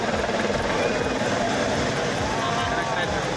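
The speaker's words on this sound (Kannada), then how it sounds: "ಬಸವೇಶ್ವರರ ಪುತ್ಥಳಿಗೆ ಹೆಲಿಕಾಪ್ಟರ್ ಮೂಲಕ ಪುಷ್ಪಾರ್ಚನೆ ಮಾಡಲಾಗಿದೆ" A helicopter showers flowers over the Basaveshwara statue at Jagat Circle during Basava Jayanti celebrations, its rotor thudding in a steady close pulsing drone with voices mixed in.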